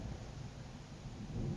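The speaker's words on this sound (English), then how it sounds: "There was one more thunder blast, much louder than the previous one." A thunder clap from a storm rolls as a broad, low rumble, steady and heavy, swelling slightly toward the end with no voices.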